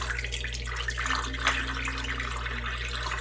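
Water runs and splashes softly in a sink while acid-dyed yarn is rinsed, a continuous low gurgling wash with a faint hum underneath, no voices.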